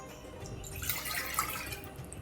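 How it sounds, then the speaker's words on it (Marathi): Three cups of water trickle and splash into a metal pressure cooker for a couple of seconds, close and moderately loud. "कुकरमध्ये आपण तीन कप पाणी घालूया"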